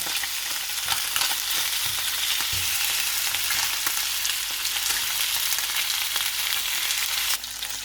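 A salmon fillet fries on its second side in an oiled pan, a continuous, even sizzle and crackle holding close and steady throughout with a few small pops and no talking.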